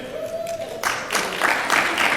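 Scattered clapping from a conference audience at a sales network event, a brief whistle-like tone fading into a few seconds of moderate, uneven applause.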